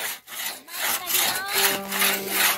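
A hand saw rasps through wood in quick back-and-forth strokes, close and loud, with a faint ringing tone from the blade.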